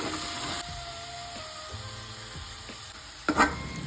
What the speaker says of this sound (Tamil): இப்போ தக்காளி சேர்த்து அது கூடவே மஞ்சள் பொடியும் சேர்த்து நல்லா வதங்க விடலாம்